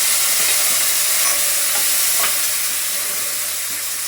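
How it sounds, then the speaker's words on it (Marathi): Tomato pieces sizzle and fry steadily in hot oil, a constant broadband hiss with occasional stirring clicks, close and fairly loud with no talking. "आता हा टमाटा थोडासा यामध्ये चांगल्या तेलामध्ये गळून घेते"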